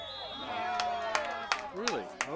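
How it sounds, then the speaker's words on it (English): Spectators at a high school varsity boys soccer match between Franklin and Attleboro react to a referee's call with a swell of murmuring crowd noise, scattered shouts and sharp whistles or calls rising over a steady background hubbub. "The crowd didn't like that call."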